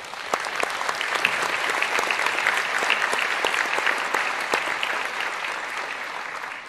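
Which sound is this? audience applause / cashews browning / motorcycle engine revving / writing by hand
audience applause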